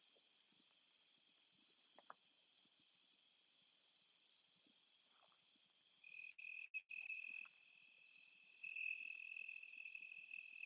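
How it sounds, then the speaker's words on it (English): Countryside crickets at night make a continuous high, shimmering trill, faint and steady, with a second nearer chirping layer joining partway through. "you really don't mind being around the crickets and the wildlife out here in the country."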